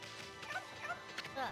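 Small dog Hayabusa in the Okami video game gives a few quick, faint yips and barks at moderate distance, spaced irregularly across a short stretch with no talking.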